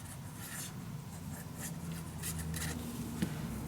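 Paper being cut out for a dog-themed mini album, with soft close scraping and rustling strokes and a small tap, steady and quiet with no talking.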